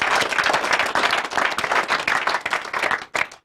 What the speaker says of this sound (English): So let's give her a bigger round of applause.